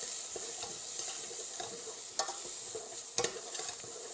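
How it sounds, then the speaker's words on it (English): About one and a half cups of sliced onion stirred around in a hot pot, a soft continuous sizzle broken by a few scraping knocks of the spoon against the pot, fairly quiet and with no talking. "we're going to throw it in to the pot. And we'll just give it a stir around."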